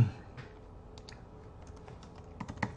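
A command is typed on a computer keyboard: soft, uneven clicks of keys, faint and close, with a slightly quicker cluster of presses near the end.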